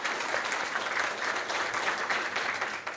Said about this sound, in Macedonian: еден аплауз бидејќи е тука представник на дипломатскиот корп